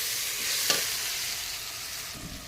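Small homegrown desi tomatoes drop into a hot frying pan, setting off a steady, close sizzle with a brief soft splash as they land and a faint stir near the end.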